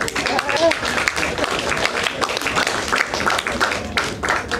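Audience applause for a comedian, Royce Emerson, at an open mic night in a small gallery venue: dense, steady clapping that fills the room for several seconds without a break, loud and close.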